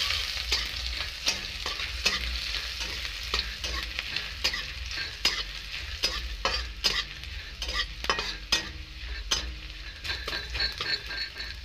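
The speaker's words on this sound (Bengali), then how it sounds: "দেখো পেঁয়াজ আমার ভাজা হয়ে গেছে ভালোভাবে লাল লাল করে" Chopped onions fry in hot oil for a kofta curry, a loud continuous sizzle broken by frequent scraping stirs and occasional clinks of a spatula against the pan.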